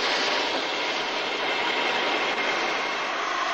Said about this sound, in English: 1923 built number 8, Llewellyn, leaving the shed and running back onto her train.